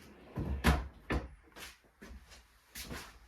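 Solid wood drawers in a Jayco 382FLRB fifth-wheel RV kitchen being opened and shut, giving several short wooden knocks and slides in quick succession, close and fairly quiet with no talking.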